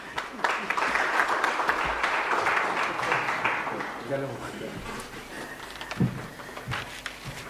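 A seminar audience gives the speaker another round of applause, scattered clapping at moderate volume that thins out midway, with talking mixed in underneath.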